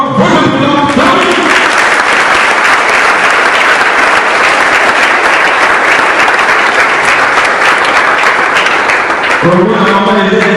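A school crowd welcoming Congo's first lady Denise Nyakeru on her tour applauds loudly in a dense, continuous burst of clapping, with a voice speaking just before it begins and again as it fades.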